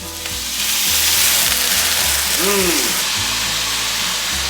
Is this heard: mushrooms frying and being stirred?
yes